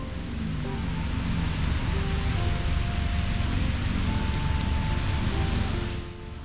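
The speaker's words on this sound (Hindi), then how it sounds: "बारिश मी ऐसा ज़ोरों से बरस रहा है" Heavy rain pours down steadily beside a garden and tomb in Lahore, a dense, loud wash of drops with no voices, easing slightly at the very end.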